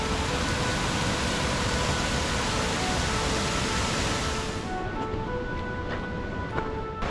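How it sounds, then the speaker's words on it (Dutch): Rushing river current of the Steall river near Nevis in the Scottish Highlands, a steady, loud broadband roar of water that thins slightly near the end as a few brief splashes stand out. "Dit is de rivierstroom van de Stielrivier, de Nevis denk ik."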